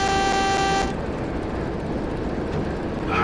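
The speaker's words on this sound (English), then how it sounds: "the sound the horn." A Class 09 shunting locomotive sounds its horn in Train Sim World 3 on the West Somerset Railway: one loud, steady two-tone blast lasting under a second, then a low engine rumble continuing on its own.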